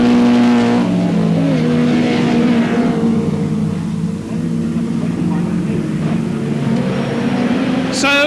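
A 1989 British Touring Car Championship car crawls slowly into the pits on a damaged left rear, its low engine drone steady and close under continuous commentary.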